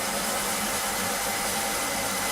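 A hot air rework station with a built-in vacuum nozzle blowing hot air during a chip repair on an audio interface circuit board, a steady loud rushing hiss that holds unbroken throughout, no talking.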